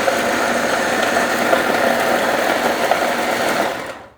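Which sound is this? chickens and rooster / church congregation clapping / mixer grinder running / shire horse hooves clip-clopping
mixer grinder running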